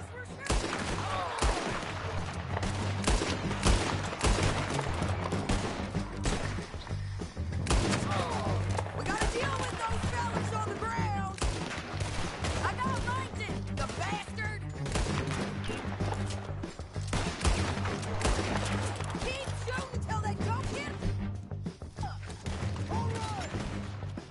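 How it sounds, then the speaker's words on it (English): Video game gunfire crackles almost without pause, dense bursts of shots layered over a steady low engine-like drone, with voices talking now and then over the fighting. "Yes, we're shooting!"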